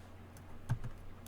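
A few scattered keystrokes clack on a keyboard, soft and close, with a slightly louder tap in the middle over a low hum.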